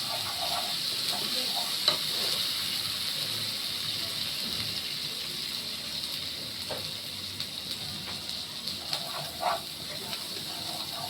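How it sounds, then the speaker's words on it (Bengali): Spice paste (masala) for a fish curry sizzles and fries in a pan with ghee, a steady close hiss broken by occasional stirring scrapes and small clatters. "মশলা কষানো হয়ে গেছে"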